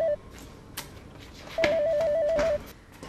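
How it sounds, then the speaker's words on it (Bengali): A telephone rings indoors with a warbling electronic tone, first a short burst and then a longer trilling ring of about a second, with faint background noise around it. "এতক্ষণ ধরে ফোন বাজছে"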